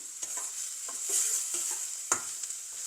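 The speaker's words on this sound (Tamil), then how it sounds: "பூசணியும் வெங்காயமும் சேர்ந்து வதங்கணும்" Pumpkin and onion sautéing in a pan, a steady high sizzle broken by a series of sharp spatula scrapes and stirs at irregular intervals, close and fairly quiet with no voices.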